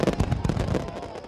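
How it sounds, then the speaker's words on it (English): Fireworks crackle and pop in rapid dense bursts in a Thomas & Friends cartoon Halloween scene, loud and continuous, fading slightly toward the end. "They love Sir Topham Hatt's fireworks"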